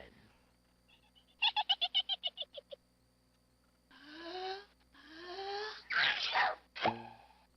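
A cartoon sneeze in a Living Books children's computer game, a short breathy burst after a run of rapid rhythmic game sounds and voice-like calls, loud and close near the end.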